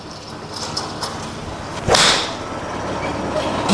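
A TaylorMade Qi iron strikes a golf ball with one sharp, firm, harsh impact near the middle, loud and crisp against a steady outdoor background hiss with no talk.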